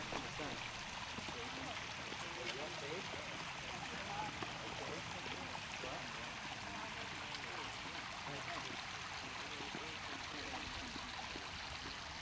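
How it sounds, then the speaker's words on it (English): Stream water running steadily over granite on the Siphon Draw trail, a continuous broad rushing and trickling wash that stays even and fairly close throughout, with no voices over it. "she said she has never seen water running over the granite"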